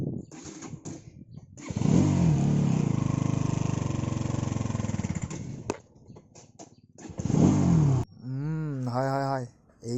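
A motorcycle engine labours as it climbs a hill road in the Meghalaya hills, a steady loud drone that drops away, returns in a short burst and then gives way to a voice.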